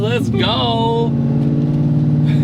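Supercharged 5.4-liter three-valve V8 in a Chip Foose edition Ford F150 with a Roush supercharger, driven on the road; a steady, loud engine drone with a tonal whine runs throughout while a voice speaks briefly over it.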